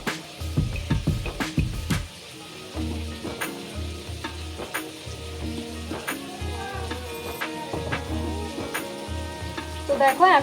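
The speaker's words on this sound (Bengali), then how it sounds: "তো এখন বাঁধাকপি দিয়ে দেবো" Cabbage tossed into hot spiced oil in a home kitchen, frying and being stirred with steady scraping strokes and a continuous sizzle, up close and fairly loud, with no one speaking.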